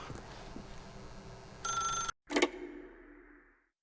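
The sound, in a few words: telephone ringing in The Stanley Parable video game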